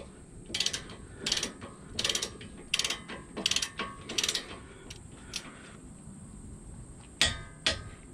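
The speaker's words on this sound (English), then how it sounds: "Hear that click? That's torqued." A torque wrench on a Honda brake bolt gives a run of sharp ratcheting clicks in a steady rhythm, about six quick bursts, then a pause and two final clicks, close and clear with no talk.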